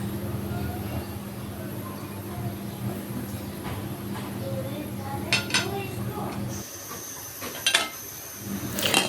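Hilsa fish curry with potatoes stirred in a pot, then the lid set on, soft clinks and scrapes of utensils against metal ending in a few louder clanks, with faint background sounds.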